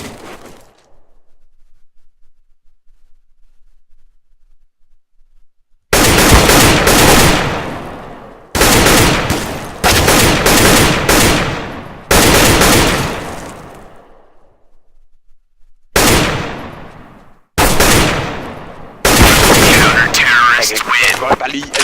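Gunfire in Counter-Strike comes in loud, sharp bursts of rapid shots separated by brief silences, after a quiet opening.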